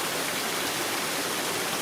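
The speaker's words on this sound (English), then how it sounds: "Pretty good rain event, I would say." Heavy storm rain pours down in a dense, even hiss of noise, loud and continuous with no breaks and no voices.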